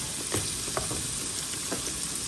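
Okra pieces frying in a pan, a steady close sizzle with a few soft clinks and stirring taps as pieces are added, and no one speaking.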